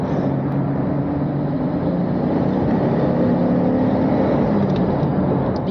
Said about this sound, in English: You do get a bit of a straight 6 roar going on when the revs build up.